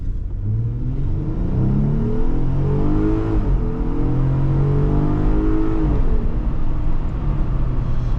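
A 300-horsepower Jeep Wrangler launches hard from a stop on a slight downhill, its engine revving up through rising gear pulls with steady, loud mechanical roar close by, with the front tires spinning.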